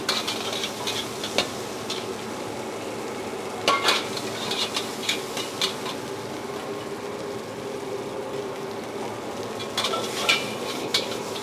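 Seafood fried rice tossed in a wok with margarine in a busy restaurant kitchen gives a steady sizzle, with repeated sharp clanks of a utensil against the wok and no talking.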